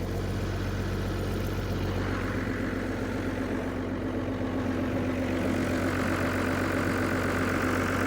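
A Perkins diesel engine idles evenly, a steady low rumble with a faint knocking beat that stays constant and moderately close throughout, with no speech over it.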